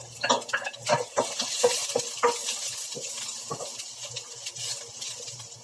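Garlic in a little oil in a pan makes a light sizzle broken by scraping and tapping stirring strokes, close up and intermittent, with no talking.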